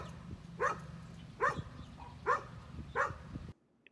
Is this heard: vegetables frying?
no